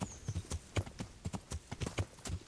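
Horse hooves clip-clop in the video game Kingdom Come: Deliverance, a steady rhythmic gait of distinct, fairly soft thuds at a moderate pace.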